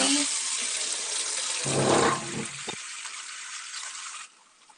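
Water runs from a tap in a steady hiss that swells briefly mid-stream, with a quick knock near the end before the flow cuts off.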